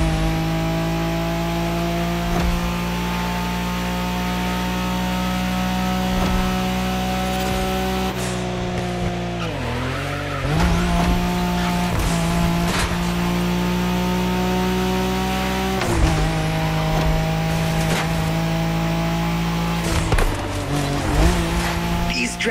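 Nissan Skyline GTR racing in The Crew Motorfest, its engine a loud steady drone with rising revs and sharp shifts, brief tyre squeals through corners, continuous throughout with a voice talking over it.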